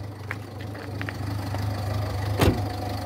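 A Ford Fiesta 1.4 TDCi diesel engine with an open or shorted cylinder 2 injector circuit idles steadily with a low, even hum and a brief sharp knock near the end.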